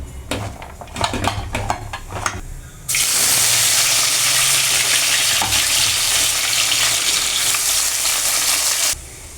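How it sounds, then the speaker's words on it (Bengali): Cut carrots, beans and capsicum frying with salt in a pan, a loud, steady sizzle that begins abruptly after a few seconds of clinking utensils and runs continuously before cutting off near the end. "আমি এখানে গাজর, বিনস আর ক্যাপসিকাম কেটে রেখেছি, এগুলোকে শুধু নুন দিয়ে ভালো করে ভেজে নেব।"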